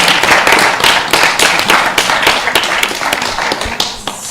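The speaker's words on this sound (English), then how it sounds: "a big round of applause for Kanapriya Prabhu" A temple congregation at ISKCON Phoenix gives a big round of applause, dense close clapping that stays loud and steady for several seconds before thinning toward the end.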